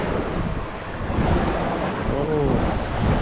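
Sea waves wash and surge around a small boat underway in open water, a steady broad roar of surf mixed with heavy wind buffeting the microphone throughout, no voices.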